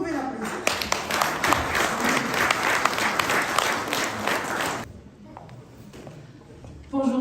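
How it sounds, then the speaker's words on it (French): An audience at an international economic forum breaks into loud, dense applause for about five seconds, then it quickly fades as a voice begins speaking. "Est-ce que vous pouvez l'applaudir?"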